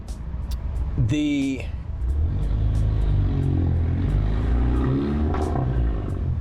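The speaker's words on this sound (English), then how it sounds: "I'm sorry, loud car." A loud car passes outside, its deep engine rumble and road noise swelling and lingering beneath a man's ongoing speech.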